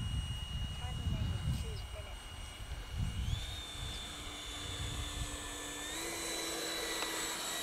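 An E-Flite Viper 70mm electric ducted-fan RC jet with a 12-blade fan on 6S power flies past with a steady high-pitched whine that rises in pitch at times, while someone talks over it.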